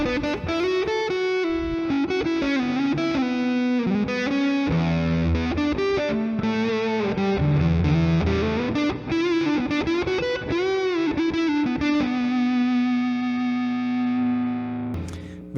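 An electric guitar played through a Proteus amp model with a darker tone rings out distorted and alone, with chords and sustained notes continuing for about fifteen seconds before cutting off.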